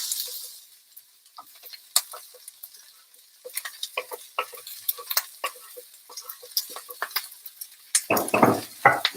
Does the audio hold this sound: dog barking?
no